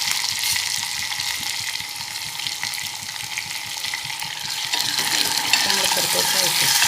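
Chopped tomatoes with a little coriander sautéing in a pan for mixed dal, a loud continuous sizzle with rhythmic stirring scrapes throughout, growing slightly louder near the end, with no voices.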